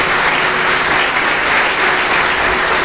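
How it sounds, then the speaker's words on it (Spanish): Church congregation applauding during a Christian service, steady dense clapping filling the room throughout, loud and continuous with no voices standing out. "Aplauda al Señor esta mañana."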